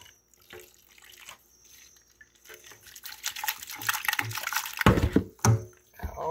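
A bunch of herbs is rinsed under running water at a tap, starting with quiet drips and trickles, then building into louder splashing and sloshing near the end.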